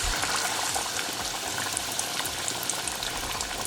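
Chicken pieces deep-frying in hot oil, a dense, steady bubbling crackle that fills the whole stretch, close and fairly loud with no voices.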